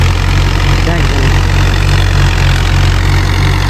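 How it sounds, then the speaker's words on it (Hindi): A large tractor's heavy diesel engine runs at a steady idle-like rumble on muddy farm ground after rain, loud and close, with no clear rise as it approaches. "बड़ा ट्रैक्टर है, बेहतरीन लग रही है। ये इधर खाला है, बड़ी मुश्किल से ट्रैक्टर आ रहा है"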